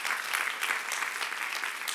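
A church youth service audience claps together, a dense, even burst of applause that holds steady throughout, close and fairly loud, no voices over it.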